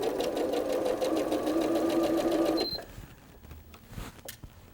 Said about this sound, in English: So let's take that to the sewing machine.